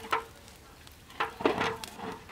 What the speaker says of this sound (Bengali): সসপ্যান গরম হয়ে গেছে তেলটা দিয়ে দিলাম